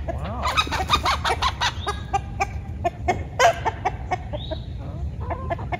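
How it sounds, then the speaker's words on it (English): Two Orpington chickens fighting close by, with repeated squawks, harsh clucks and honking cries in rapid, irregular bursts over a constant low background rumble. "those are both Orpingtons that we're fighting"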